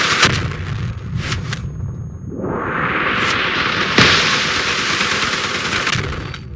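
Cannon fire in the vehicle combat game Crossout, with several sharp booming shots followed by a sustained roaring blast and one more heavy impact, loud and close.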